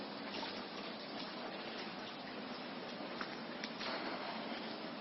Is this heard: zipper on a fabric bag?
no